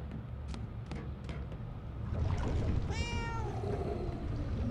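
A cat meows in the horror video game Murdered: Soul Suspect, a single drawn-out rising cry near the middle, over a dark ambient game background with a few faint clicks earlier.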